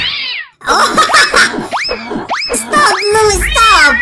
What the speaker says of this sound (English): Oh, he's angry cat!